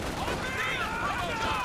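Gunfire from a Company of Heroes 2 match with dense, overlapping battle noise filling the whole moment. Steady loud din with streaks of whistling or whining tones riding over it.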